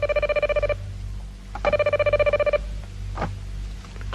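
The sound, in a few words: telephone ringing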